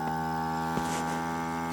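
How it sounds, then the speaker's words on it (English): An Aldi Ambiano professional vacuum food sealer runs steadily as it pumps air out of the bag, giving a constant humming drone with one brief click partway through. "it'll suck all the air out, and once the vacuum has come up to pressure, it will stop and seal the unit"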